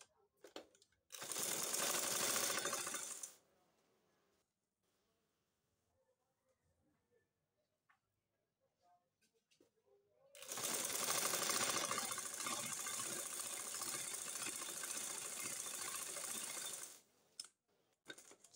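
An electric sewing machine stitches the lower hem of a blouse sleeve in two loud, steady runs, a short one and then a longer one, separated by a near-silent pause.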